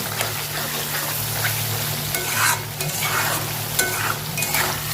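Pieces of brinjal stirred and fried in fish oil in a pan, a steady loud sizzle running throughout with repeated scraping strokes of the spoon, close up and with no voices.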